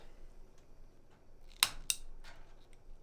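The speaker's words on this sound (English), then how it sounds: "I'm just going to cut these kind of close to this ballast." Wire cutters snip through fluorescent light fixture wires near the ballast, two sharp close clicks about a quarter second apart in an otherwise quiet room.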